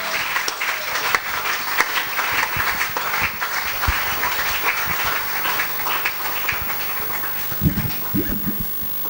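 A church congregation claps together in a sustained, moderately loud round of applause filling the room, uneven and rolling, with a few heavier thumps toward the end.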